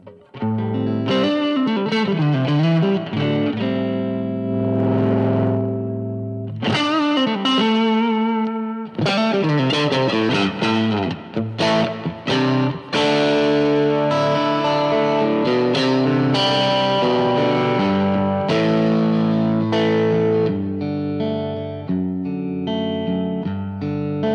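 A Bad Cat boutique guitar amplifier's drive channel at maximum gain produces heavily distorted, sustained guitar chords and riffs, loud and continuous with short pauses between phrases.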